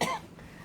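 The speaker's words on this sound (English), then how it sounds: "where all that incense made me cough." A single sharp cough from incense smoke bursts out loud at the start, then fades into a quiet, faintly noisy room with no talking.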